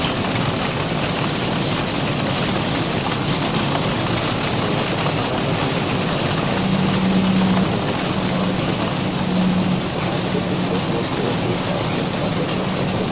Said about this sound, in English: Man, we are getting slammed with rain.